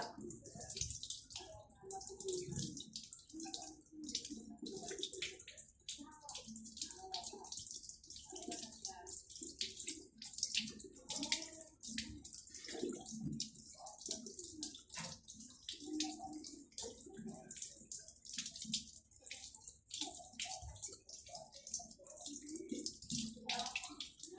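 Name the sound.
washing pork ribs under running water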